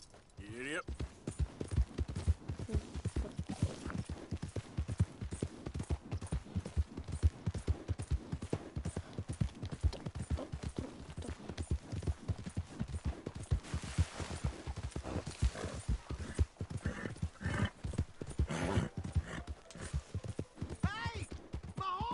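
Horse hooves clip-clop steadily at a gallop throughout in the video game Red Dead Redemption 2, with voices talking loudly over the rhythmic pounding.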